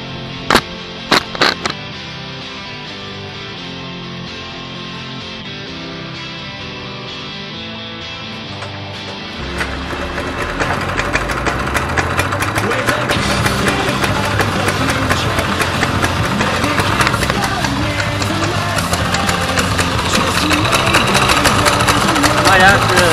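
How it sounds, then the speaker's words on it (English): A cold-started mini bike engine with the choke on fires up partway through and keeps running with a steady mechanical buzz. A few sharp clicks and knocks come before it catches. "Cold start, so the choke is on. At least it runs"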